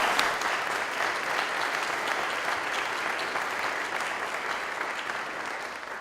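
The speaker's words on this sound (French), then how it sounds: "Applaudissons-les." Sustained audience applause at a national agricultural merit awards ceremony, a dense, steady wash of many hands clapping together at even loudness for about six seconds, with no talk over it.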